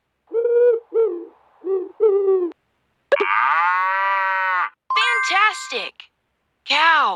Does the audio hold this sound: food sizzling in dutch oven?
no